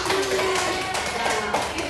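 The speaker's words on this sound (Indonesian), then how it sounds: "beri tepuk tangan untuk Miranti" Students in a classroom clap for a classmate during a microteaching lesson, a short burst of brisk, close, overlapping hand claps with steady room noise.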